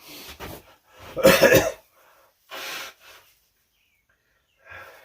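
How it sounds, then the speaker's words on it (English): A man blows his nose in a few forceful bursts, one long loud honk followed by shorter softer blows, close up with quiet gaps between. "I'm going to blow my nose first"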